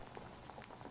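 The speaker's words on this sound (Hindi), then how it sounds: "पानी अभी तक उबल रहा है।" Water boiling in a pot, a steady low bubbling and popping texture that runs evenly and quietly throughout, with no voices.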